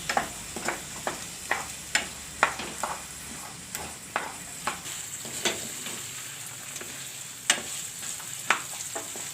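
Valor beans sizzle in oil with turmeric and salt in a pan, a continuous frying hiss punctuated by frequent sharp spatula taps and scrapes in an uneven rhythm, close and alone.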